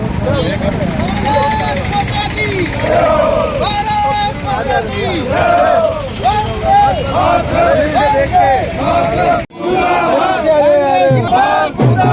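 Party workers in Hanumangarh loudly chant protest slogans against the Congress government, a rhythmic mass of shouting voices repeating short phrases close by, with crowd noise and a brief drop near the end.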